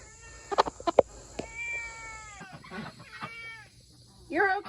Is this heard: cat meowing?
yes